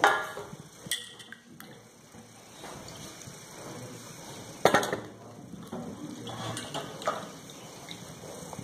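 Onions being scrubbed and washed by hand in water in a home kitchen, quiet splashing and rubbing with a few sharper knocks against a vessel, close and alone.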